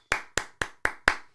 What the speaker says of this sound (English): What am I clapping myself for?